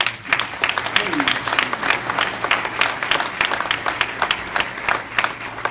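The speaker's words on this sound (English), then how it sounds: "Give yourselves a round of applause." Applause from an audience of worshippers at a religious gathering, a steady round of clapping across the whole stretch with a low hum beneath and some crowd voices mixed in.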